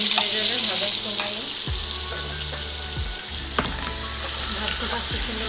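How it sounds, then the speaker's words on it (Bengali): Pointed gourd frying with turmeric powder in a pan, sizzling steadily and close throughout, broken by a few short scraping stirs of a spatula. "এই যে পটলটা আমার ভেজে নেওয়া হয়ে গেছে"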